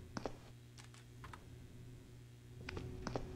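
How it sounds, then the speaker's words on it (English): Faint clicking from what sounds like a computer keyboard, a few short bursts of light key taps spread unevenly across a quiet, hushed background. "I hear you clicking away."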